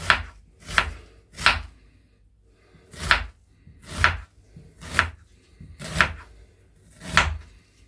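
Knife strikes chopping ingredients for roast lamb and potatoes on a board: about nine sharp, close chops in uneven groups with short pauses between, with no talking.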